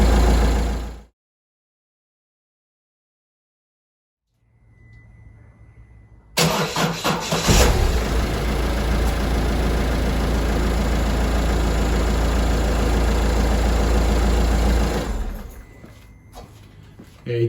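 A car engine in winter cranks with a low, uneven starter-motor churn, struggling on a weak battery, then catches with a loud burst and settles into a steady idle before cutting off; a person speaks over it.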